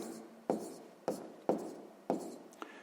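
Pen or chalk strokes write down a math calculation, with four distinct scratchy taps and short scrapes spaced about half a second apart plus a faint final tick, quiet and close with no talking.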